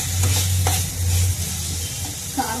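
Dried fish, drumstick pieces and green chillies fry in a pan with a steady close sizzle, a low hum running underneath and a few brief stirring scrapes.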